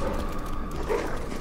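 Dogs barking and yipping in the video game Resident Evil 3, short muffled canine cries under a dense, noisy game soundscape.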